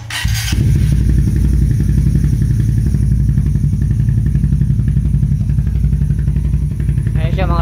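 Yamaha-style Raider 150 FI motorcycle idling through a Red Leo power pipe exhaust, a deep, steady throbbing rumble recorded up close and loud, opening with a brief clatter and continuing unbroken throughout.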